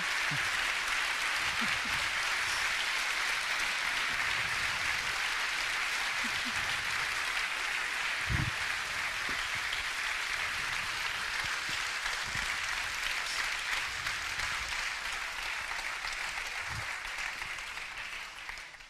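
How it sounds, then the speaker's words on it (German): Sustained, dense applause from a large audience at a public talk by astronaut Samantha Cristoforetti fills the whole stretch at steady volume, tapering slightly at the end. "Samantha, du hörst es am Applaus"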